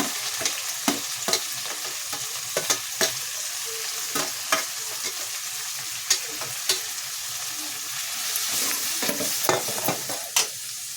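Chopped tomatoes sizzle in a pan for egg sambar while a spoon scrapes and taps in an irregular rhythm against a steady crackling hiss. No talking.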